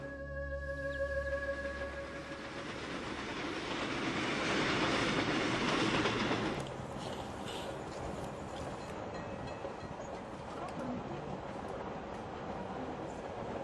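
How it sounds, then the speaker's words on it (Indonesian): A Jakarta-Jogja express train runs along the rails with a continuous rumbling roar and rhythmic clickety-clack of wheels, swelling louder midway then settling to a steady rolling drone, with faint tonal hums early on. "Saya dalam perjalanan bisnis naik kereta ekspres Jakarta-Jogja saat kereta tiba-tiba berhenti."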